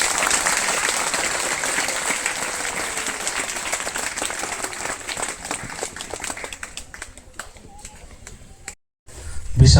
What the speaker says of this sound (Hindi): सभी कोई ताली बजा देंगे।